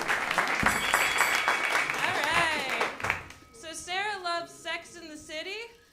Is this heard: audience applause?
yes